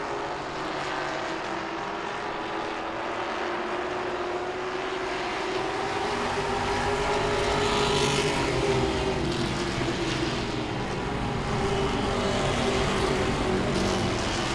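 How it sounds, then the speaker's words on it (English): Grand Stock race cars at Langley Speedway, a short oval track, roar past in a steady loud engine drone that swells and fades as the cars go by. "Andrew Condry goes by."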